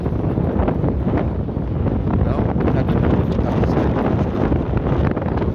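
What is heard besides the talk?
strong wind blowing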